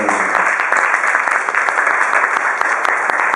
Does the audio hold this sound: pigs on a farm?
no